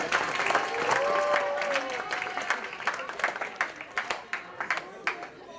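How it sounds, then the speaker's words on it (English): A school parents' game night crowd applauds teachers and advisors, broad clapping that thins into scattered individual claps near the end, with some voices and cheers mixed in. "let's give them a round of applause"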